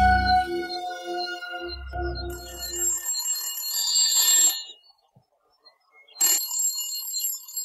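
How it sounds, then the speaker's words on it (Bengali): A telephone rings in a tense thriller scene, electronic ring bursts starting around two seconds, pausing into silence near five seconds, then ringing again at six seconds, with low musical drones underneath at the start. "টেলিফোন বেজে উঠল।"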